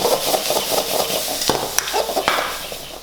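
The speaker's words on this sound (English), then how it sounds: "So my pickled vegetable into the wok. Gonna get some colour into that with a dash of dark soy." Pickled vegetables stir-frying in a wok with a dash of dark soy, a steady close sizzle with scraping stirs and a couple of sharp metallic knocks against the pan, with no talking.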